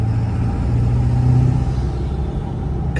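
A Ford 7.3 diesel truck with a boost fooler pulls hard under load in third gear, its deep steady engine rumble droning loud and continuous, turbo spooling up beneath it.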